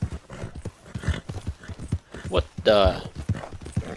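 Horse hooves clip-clop in Red Dead Redemption 2 in a steady walking rhythm, mid-distance, mixed under near-constant talking, with a brief whinny partway through.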